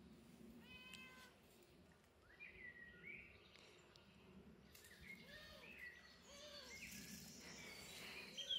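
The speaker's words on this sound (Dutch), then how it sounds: "Dat is een poesje, Lola." A cat gives several short meows in quiet outdoor surroundings, soft and somewhat distant, with faint birdsong and insect chirps in the background.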